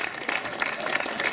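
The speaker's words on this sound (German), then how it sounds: "Einen herzlichen Applaus" An audience at a Django Reinhardt gypsy-jazz festival concert in Hildesheim claps steadily, a dense, even wash of applause from a crowd throughout.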